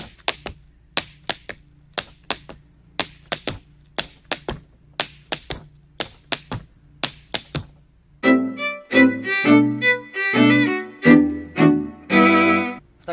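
Tap dance steps striking the floor at a workshop: a run of sharp, evenly spaced single taps for about eight seconds, then denser, louder ringing clusters of taps in a quicker rhythm, close and clear with no talk.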